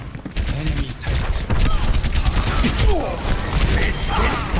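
Gunfire rattles through an Overwatch match in rapid bursts and scattered shots, loud and close, mixed with impacts and other game effects.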